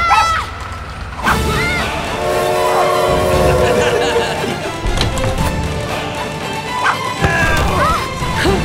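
Train with a loud blaring horn in a Wild West adventure film trailer, several long horn blasts over rumbling rail noise and a busy soundtrack, with a short voice and brief effects mixed in.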